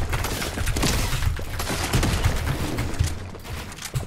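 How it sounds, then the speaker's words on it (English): Shotgun fire in a competitive online shooter game, a dense, rapid series of sharp blasts and impacts crackling throughout with no voice over it. "This shotgun does no damage."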